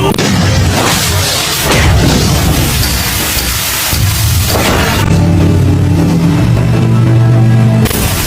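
Loud explosions and booming blasts erupt during a chaotic Bleach anime battle in Soul Society, heavy rumbling impacts with whooshes, followed by a rising tonal swell of music.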